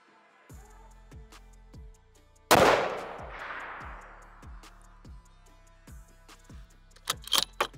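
A Ruger Precision Rifle in 6.5mm Creedmoor fires one loud, sharp shot whose boom rolls away over a couple of seconds, set among quiet, evenly spaced clicks and a few small knocks at the end.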